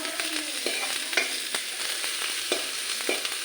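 Kawai fish fries in a pan with a steady, dense sizzle and crackle, and occasional stirring scrapes break through at irregular intervals.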